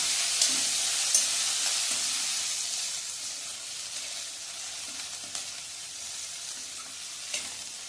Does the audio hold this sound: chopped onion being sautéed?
yes